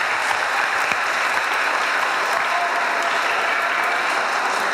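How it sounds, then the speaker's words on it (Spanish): Steady, dense applause from an audience clapping for a young boy at a church gathering with children, loud and continuous throughout without any talking over it. "Aplauso para Alejandro."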